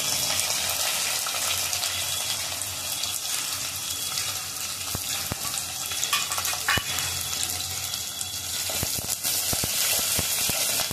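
Chopped onion and curry leaves fry in hot oil with a loud, continuous crackling sizzle that fills the scene, punctuated by a few sharper pops and spatula scrapes.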